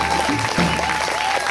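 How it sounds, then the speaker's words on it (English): A short burst of audience applause at a concert, dense clapping that fills the moment, loud and close, with a faint steady tone running underneath. "So give them a round of applause,"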